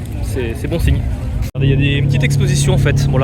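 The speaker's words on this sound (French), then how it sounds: "le bruit que vous entendez, c'est la M3 là, qui vient de démarrer" A BMW M3 engine starts up at an outdoor car gathering and settles into a low, steady idle rumble, heard under someone talking continuously nearby.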